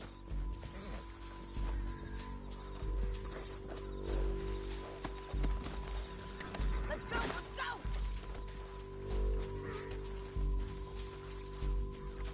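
Horse hooves in Red Dead Redemption 2 clop in an uneven, rolling rhythm along with thuds and scuffs, under shouted dialogue and a steady low game soundtrack.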